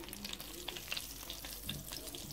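Chicken sizzles in butter in a pan, a soft steady crackle with scattered sharp pops and occasional stirring scrapes, fairly quiet and with no talking.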